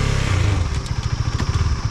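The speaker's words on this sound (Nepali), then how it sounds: "हेर तिन गियरमा राखेको बाइक रोक्दाखेरि नि" A motorcycle engine idles roughly in third gear as the bike comes to a stop, with a steady low throbbing pulse and some clattering, close and fairly loud.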